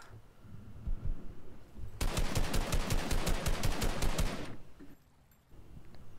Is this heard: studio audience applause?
no